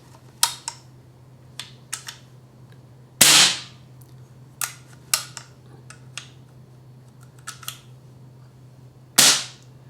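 An air gun fires a run of sharp shots while its air dump is tested after a rebuild. The loud cracks come at irregular intervals with quieter clicks between them and no talking.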